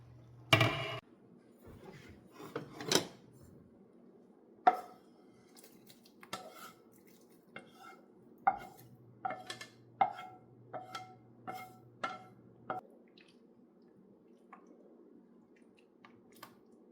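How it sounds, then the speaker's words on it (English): Sauteed vegetables for a ham and bean soup transferred into a soup pot, a string of soft wet squishes and scattered light taps of a utensil, spaced irregularly, close and fairly quiet. "I'm getting ready to put these sauteed vegetables in the soup pot"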